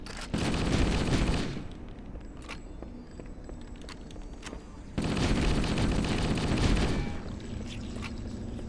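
Video game assault rifles fire in two long, loud bursts of rapid automatic gunfire, separated by a quieter stretch of scattered shots and movement.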